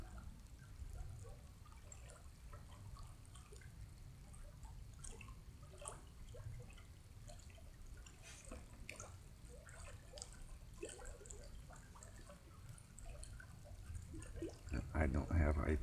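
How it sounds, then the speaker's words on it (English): Water trickles and drips steadily outdoors beside a campfire at night, a faint continuous wash with scattered droplet ticks under low talk, growing louder near the end. "Probably all you guys can hear is the freaking water."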